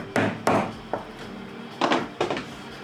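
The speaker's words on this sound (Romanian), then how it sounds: "Ciocanul e foarte ușor, de asta dau de mai multe ori." Light hammer tapping on leather while making a crossbody bag: sharp, close knocks in two pairs, then a single tap, then quick clustered strikes, with short pauses between groups.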